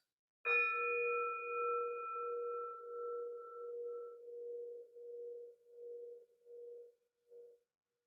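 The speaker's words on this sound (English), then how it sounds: "We ring the gong 3 times." A gong at a congregation's service is struck once and left to ring, its bright clear tone sustaining and slowly fading with a gentle pulsing beat over several seconds, alone in a quiet room.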